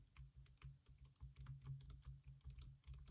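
Soft, rapid typing on a Logitech Pebble Keys keyboard, its very quiet keys tapping in a steady, close-up patter with no voice over it.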